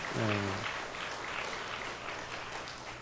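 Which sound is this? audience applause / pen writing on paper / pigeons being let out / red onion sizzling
audience applause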